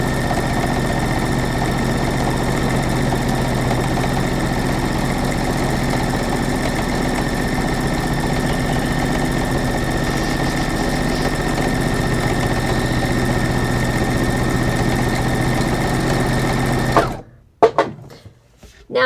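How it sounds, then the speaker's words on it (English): A sewing machine stitches down the middle of a fabric spaghetti strap, humming in a steady, loud, continuous whir for about seventeen seconds before stopping abruptly, followed by a few brief handling knocks. "and then you just sew it down the middle."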